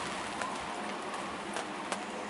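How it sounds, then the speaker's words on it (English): Heavy rain pours down on a sailing boat with the wind blowing hard, a dense steady hiss with a few sharper drips and knocks standing out close by. "It's absolutely pouring down with rain, and it has been most of the night as well."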